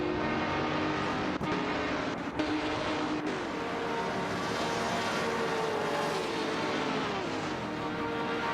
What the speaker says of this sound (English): is locked in a fierce contest with 1999 Setembro, who is piloting the Plymouth Barracuda Hemi